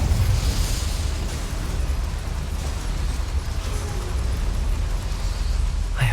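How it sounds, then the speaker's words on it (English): A fiery burst as the Incendio spell ignites flames in Hogwarts Legacy, a loud, dense roar of crackling fire that holds steady throughout without voices. "Incendio should be enough to light these flames."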